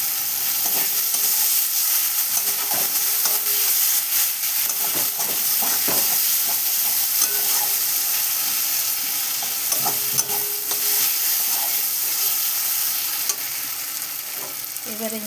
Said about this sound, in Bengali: আর এদিকে মশলাটা কষানো হচ্ছে,